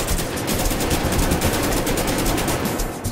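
An AK rifle in the GTA video game fires a rapid, continuous burst of automatic shots, loud and close with no pauses and no talk.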